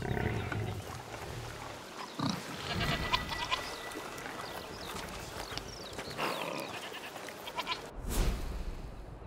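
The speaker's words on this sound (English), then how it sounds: "You're a nice goat, Lucinda." A goat bleats in the video game A Plague Tale: Requiem, with several wavering calls over busy ambient game sound and a louder burst near the end.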